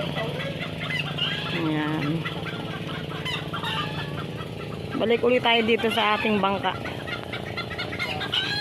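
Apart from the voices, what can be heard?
pet chickens clucking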